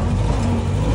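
Land Rover Series IIA engine pulling in third gear in four-wheel-drive low range, a close, steady, loud drone with a faint tonal hum and no voices over the brief stretch.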